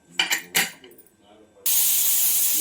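A pressure cooker of masala avarekalu bath lets off its whistle: a sudden, loud, steady hiss of escaping steam that cuts in after a brief spoken voice and a couple of clinks.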